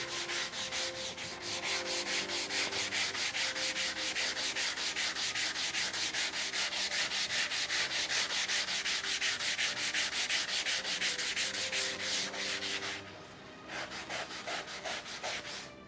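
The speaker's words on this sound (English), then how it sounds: "I will just finish this with the sanding block." A sanding block with 80-grit paper is rubbed over a low spot on wood in fast, steady back-and-forth strokes, close and continuous, with a brief pause near the end and no talk.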